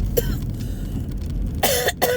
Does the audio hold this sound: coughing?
yes